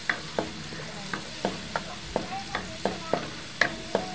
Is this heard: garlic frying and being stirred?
yes